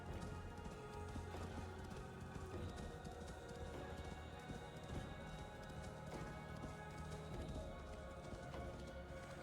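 Hooves of a horse galloping in the video game Assassin's Creed Valhalla, a steady rapid clip-clop running continuously under a busy layer of music and ambient game sound.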